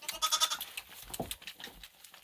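A young male goat kid being bottle-fed, with soft close sucking and slurping sounds mixed with faint bleating on a farmstead, fairly quiet, with no speech.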